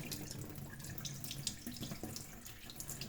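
Tap water runs steadily over land snails being washed under a faucet, a continuous splashing flow with light dripping, close and alone.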